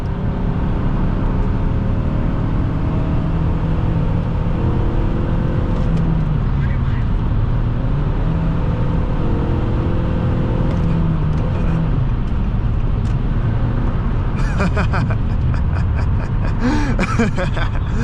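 A 2006 Nissan Altima 2.5 S accelerates hard from 0 to 60 with some wheel spin, its engine drone and road noise loud and continuous throughout, with people talking over it.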